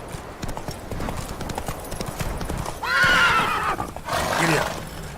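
Roach, Geralt's horse in The Witcher 3: Wild Hunt, gallops with a steady rapid clip-clop of hooves, then lets out two loud, close whinnies near the end, with a faint voice briefly under the hoofbeats.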